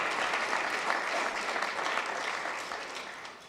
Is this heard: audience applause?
yes